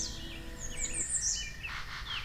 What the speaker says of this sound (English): The lesser bird of paradise, the gold of the forest.